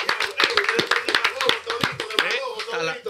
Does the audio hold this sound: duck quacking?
no